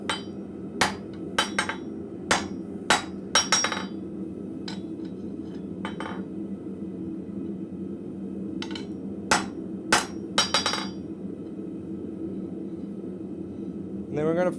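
Blacksmith hammering metal on an anvil in a forge, sharp ringing strikes in quick clusters with pauses between, fairly close and crisp over a low steady hum, while someone talks intermittently.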